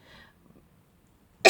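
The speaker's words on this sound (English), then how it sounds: "I had a sneeze there" A single sharp, loud sneeze bursts out close to the microphone at the very end, after a moment of near silence.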